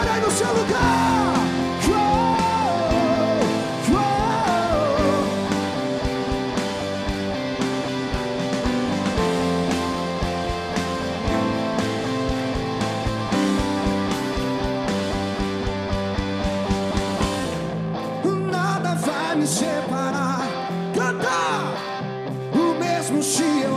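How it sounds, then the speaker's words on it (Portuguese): A church congregation shouts a cry of victory during a worship service. Loud, continuous yelling and whooping carries over dense music, then the music thins out near the end. "dê um grito de vitória aí no seu lugar"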